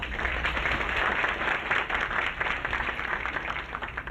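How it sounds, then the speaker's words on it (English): Applause for the head table at a tenth-anniversary board banquet: a roomful of steady, dense clapping at moderate distance, sustained without a break. "let's give a round of applause to the entire head table"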